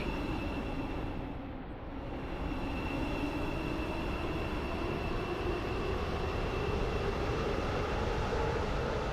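Metro train in the Stepford County Railway video game running steadily on the line from Stepford Central to Berrily, a constant loud rumble and hum with a faint high whine throughout.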